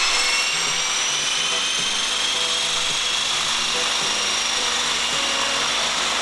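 A helicopter rotor spins up to speed for blade tracking and balancing, producing a steady, loud, continuous whirring drone with a rhythmic low beat.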